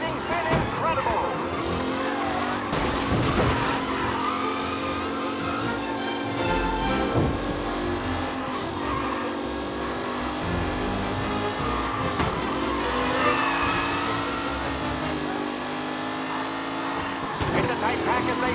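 Race cars in Mafia Definitive Edition: steady, loud engine drone with shifting pitch from the pack, occasional tire squeals, under continuous talk.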